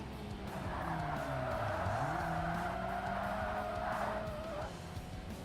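A car in Forza Motorsport with an open differential squeals one tire as it comes out of a slide, a loud, close, pitch-bending screech over a steady engine drone that fades near the end.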